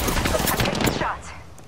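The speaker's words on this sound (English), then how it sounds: "Getting shot at." Rapid bursts of automatic gunfire in the Apex Legends battle royale game, loud and dense for about a second before fading into quieter game sounds.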